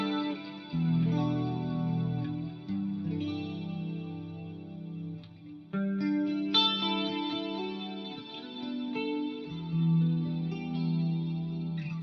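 Electric guitar with an 80s-style chorus tone from a Fractal modeler, shimmering sustained chords and melodic notes played close and fairly loud, with no voices.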